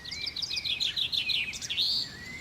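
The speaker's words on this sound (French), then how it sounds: "Bon, assez écouté de petits oiseaux." Small birds sing in a forest canopy, a quick run of bright chirps and trills that stay close and clear over quiet background.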